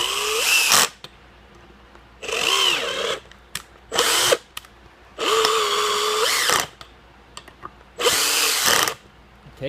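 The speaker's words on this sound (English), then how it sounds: "Get your drill." Cordless power drill driving hex bolts on a B02 adapter for a 1970s Ford, several loud bursts of whirring that rise and fall in pitch, separated by short pauses, with no talk.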